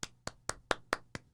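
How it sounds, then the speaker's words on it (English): Seven crisp hand claps in a steady, quick rhythm, close and sharp, each a bright snap with a short decay, with nothing else heard around them. "Clap."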